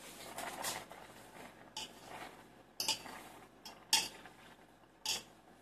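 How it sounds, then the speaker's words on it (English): Boiled dates being mashed in a pot for sugar-free vegan bread, heard as soft scraping with a few sharp metallic clinks of utensil against pot, coming in irregular bursts up close. "The minute it's boiling, you start mashing it right away."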